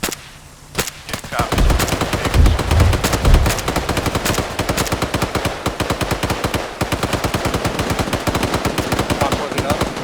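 Sustained automatic gunfire pours out in rapid, evenly spaced bursts during a live raw operation ambush, loud and close, running almost without pause after a brief quieter opening.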